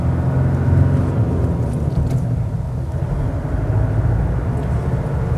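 A manual-transmission pickup truck's engine drones loudly and steadily from inside the cab during a driving lesson, a low continuous rumble without a clear rise in pitch.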